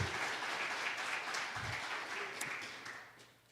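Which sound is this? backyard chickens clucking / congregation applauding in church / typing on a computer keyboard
congregation applauding in church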